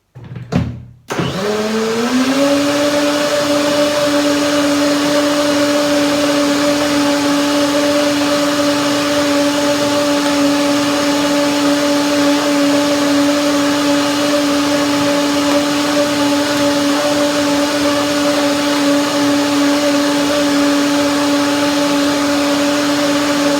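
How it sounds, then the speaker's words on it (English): A blender blending a turmeric cashew dressing starts with a short burst, then settles into a loud, steady, even whine that runs unbroken for over twenty seconds, close up and with no talking. "The sound of the blender pretty even."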